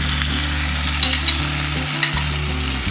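Ground spices frying in oil in a pan for bhindi chorchori, with ginger-garlic paste, cumin, coriander, turmeric and chili powder; a steady close sizzle with soft stirring scrapes, no talk.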